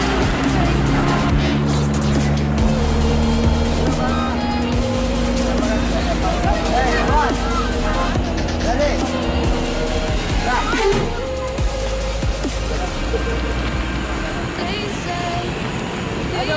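An ANS single-glass bus departs with a loud, steady engine rumble close by, its drone holding throughout while people talk over it.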